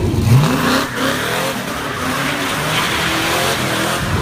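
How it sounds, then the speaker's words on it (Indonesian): A loud, throaty V8 muscle car engine revving hard, pitch climbing and rumbling continuously, with a faint tire squeal early on. "suara mesin V8 yang gahar"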